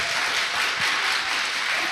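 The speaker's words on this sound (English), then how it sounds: "Let's give her another round of applause, everybody." Steady, even audience applause at a live show, continuous and fairly full without any talk over it.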